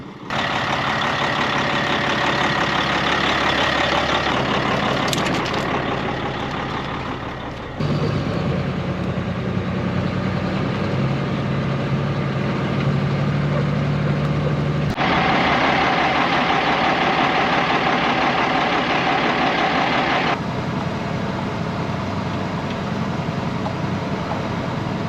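A truck engine idles steadily throughout, a continuous low rumble with a shift in tone partway through, close and fairly loud, with no talking.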